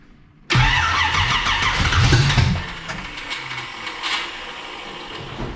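A car engine starts abruptly after a timing adjustment, cranking briefly and catching, then settling into a steady, rough idle close by.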